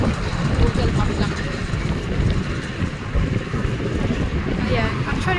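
Wind gusting hard across the microphone on a city sidewalk in Budapest, a steady broadband roar with rumbling buffets that runs through the whole stretch.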